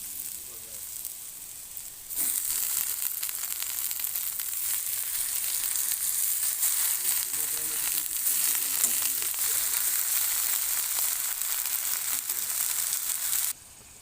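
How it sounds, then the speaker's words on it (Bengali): Pumpkin flowers fry in a pan with salt and turmeric, a steady bright sizzle that jumps up suddenly when they hit the oil and holds evenly before dropping away at the end. "তোমার ভাজা ভাজা হয়ে গেছে ফুলগুলো দিয়ে দেবো"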